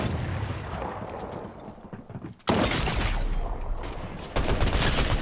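Rapid automatic assault rifle fire from a competitive battle royale video game match, dense sustained bursts that cut out briefly and then resume loud and close.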